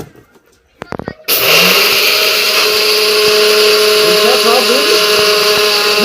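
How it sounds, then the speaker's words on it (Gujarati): An electric grinder roars into loud, steady whirring as it grinds edible gum for laddoos, after a few short knocks at the start, running continuously to the end. "મિત્રો ગુંદ દળી નાખશું"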